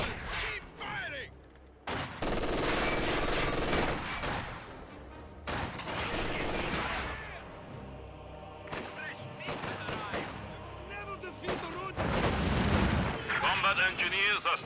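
Gunfire and artillery blasts in a strategy video game match, with repeated bursts and booming shots under steady caster commentary.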